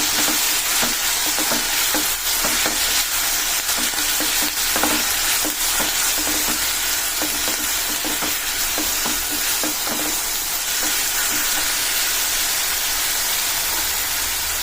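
Sliced onions sprinkled with salt cook in a pan with a constant hissing sizzle. Frequent stirring adds irregular scraping taps close by, and no one is talking.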